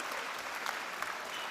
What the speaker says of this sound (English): can we have a huge round of applause, please, for Dr. Aubrey Dunn